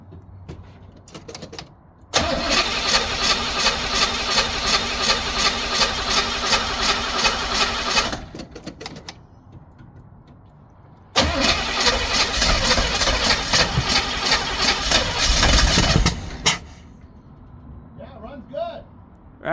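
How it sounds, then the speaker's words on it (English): Jeep engine fitted with a Chinese carburetor, cranked and started: two loud stretches of rough idling with a ticking chatter, separated by a quiet pause, with people talking in the gaps. "let me start it, John, and you can listen for the tickety tick over here"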